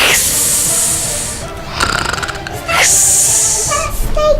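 Voice imitating snoring, a storyteller's mock snorts and wheezy breaths acting out a snake-like snore, close and fairly loud with brief pauses between the noises.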